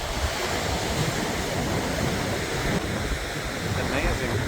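Surf on Padang Padang beach in Bali rolls in as a constant, broad wash of breaking waves mixed with wind buffeting the microphone, steady and fairly loud throughout.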